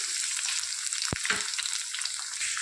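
Cumin seeds, green chili, curry leaves and onion fry in a hot pan, giving a steady soft sizzle with a couple of sharper crackles as the ingredients go in.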